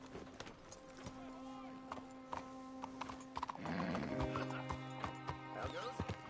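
A horse in the Red Dead Redemption 2 video game, its hooves clip-clopping in steady rhythm with a neigh partway through, while voices talk over it and game music plays beneath.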